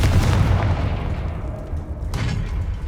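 A Confringo blast spell explodes in the Hogwarts Legacy video game, giving a loud, dense boom that stays full across its short length, with a second burst near the end and no talking.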